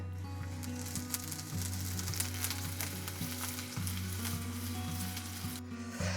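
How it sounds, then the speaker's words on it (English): Sage leaves crackle and sizzle steadily in hot vegetable oil, a dense, continuous frying hiss with a low hum beneath, close and fairly loud, with no voices. "I'm going to fry those in some vegetable oil so that they're nice and crispy to go on top of the soup"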